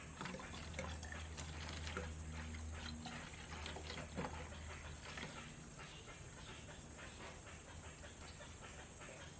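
Water from a one-and-a-half-litre bottle is poured into a small jug as homemade NPK fertilizer is mixed, a steady, continuous rushing splash that keeps going for several seconds with no voices.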